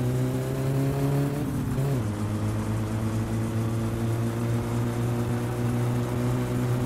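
Satsuma car in My Summer Car driven with a manual gearbox, a steady droning engine whose pitch drops with a gear change near the start, then holds an even, continuous hum at close range.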